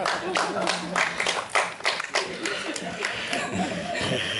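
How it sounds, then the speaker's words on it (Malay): Audience at a crypto coin seminar claps in a quick spirited pattern, with chuckles, laughter and talking mixed among the claps in a lively room. "Tepukan semangat."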